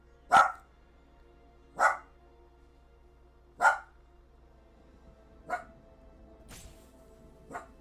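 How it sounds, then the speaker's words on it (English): A dog barks in single spaced barks, the first three loud and close, the later ones growing fainter, with quiet gaps of a second or more between them. "Never mind my dog."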